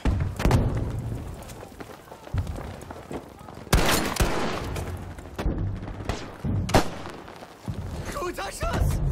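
Gunfire in the World War II shooter game Battlefield V, rifle shots and rattling bursts in uneven clusters with heavy thumps, loud and close, mixed with shouted soldier voices.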